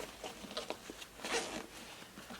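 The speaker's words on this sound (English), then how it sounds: "Very nice zipper pulls on this bag as well, so easy to get your hands on this to unzip the bag." The zipper on a 5.11 Rush 12 backpack is pulled open close up, making a few quick, rasping runs of the teeth with short pauses between the pulls, quiet and with no voices.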